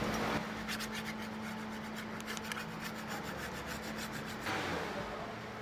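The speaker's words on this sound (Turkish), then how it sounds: "Üzerindeki ufak tefek conta parçaları gitmesi için sürtüyorum." Steady rasping scrape of sandpaper rubbed back and forth in quick repeated strokes, sanding red gasket residue off a Tofaş Şahin 1.6 cylinder head cover, close up, starting and stopping abruptly with no talking.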